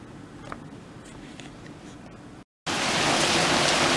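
Heavy rain falls steadily in a hurricane's aftermath amid flooding, a soft continuous patter that cuts out briefly and returns as a much louder, dense roar.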